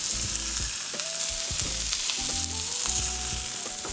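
A salmon fillet sears in a hot pan while being basted with butter, giving a loud, steady sizzle with crackling spits and the clink of spooning throughout.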